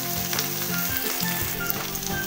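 Spice paste sizzles and crackles loudly in hot oil with frying potatoes for a jackfruit curry, a continuous close hiss with faint stirring underneath and no talking.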